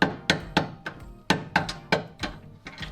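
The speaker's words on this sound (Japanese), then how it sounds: "ドライバー刺してゴムハンマーで叩いて、このボルト抜いていきたいと思います" A rubber mallet strikes a screwdriver wedged against a lower control arm bolt on a Suzuki Every DA64V van with 170,000 km, about ten sharp, close, irregular knocks ringing out with no talk.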